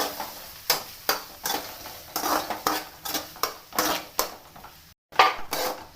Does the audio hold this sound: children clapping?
no